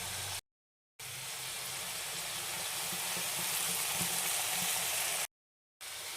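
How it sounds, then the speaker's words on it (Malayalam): Jackfruit pieces frying in oil on a low flame, a steady soft sizzle heard close up, broken by two short silent gaps, with no talk. "ഇത് ലോ ഫ്ലെയിമിൽ ഇട്ടിട്ട് ചൂടാക്കി എടുക്കുകയാണ്, ഫ്രൈ ചെയ്തെടുക്കുകയാണ്"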